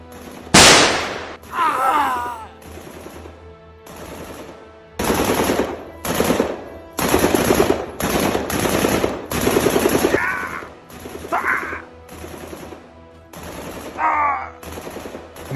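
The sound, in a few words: gunfire in a war film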